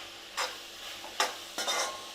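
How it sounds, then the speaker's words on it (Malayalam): Onions and four green chillies sauté in a pan, with a few brief stirring scrapes over a soft, low sizzle. "ഇനി ഇതെല്ലാം കൂടി നന്നായിട്ടൊന്ന് വഴണ്ട് വരട്ടെ"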